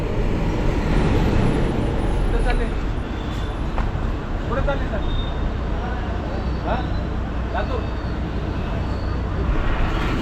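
An MSRTC state transport bus pulls out from Chiplun, heard from inside as a steady, continuous engine drone and road rumble throughout.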